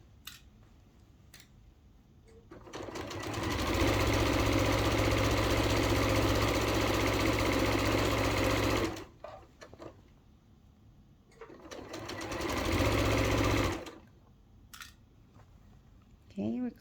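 A sewing machine stitches fabric for a reusable bag in two sustained runs, a long burst followed by a shorter one, with quiet gaps and light handling noise between them.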